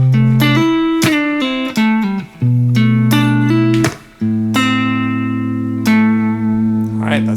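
Electric guitar plays the first chillhop phrase of Cruisin by Cloudchord and G Mills, plucked single notes and short chords moving through a clean, bright melodic line, close and alone.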